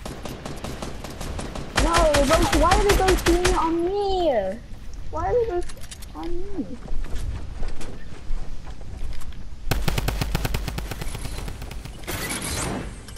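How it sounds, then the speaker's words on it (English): Rapid bursts of automatic gunfire in a Fortnite duos match, loud clattering volleys near the start and again later, with excited voices talking and exclaiming between the shots. "Why are they both shooting on me?"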